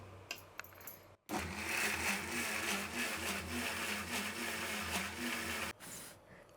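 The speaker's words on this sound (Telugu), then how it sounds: "ఇప్పుడు మిక్సీ జార్ పట్టుకొని మెత్తగా పేస్ట్ లాగా చేసుకుందాం." A mixer grinder grinds roasted masala with a little water into paste for fish curry, running as a steady, close whirring drone for about four and a half seconds between short quiet handling sounds.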